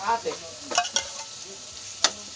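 Canned tuna added to softened chopped onions in hot oil, giving a low sizzle with a few sharp stirring clicks and scrapes of a utensil against the pan, close and fairly quiet.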